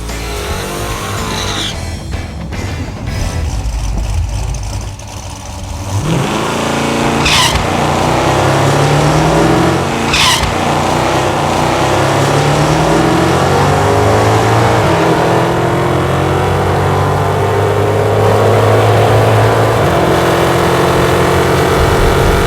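Hemi-powered gasser drag car launching and accelerating hard down a drag strip, loud engine roar climbing through the gears with sharp shift breaks, sustained and close throughout.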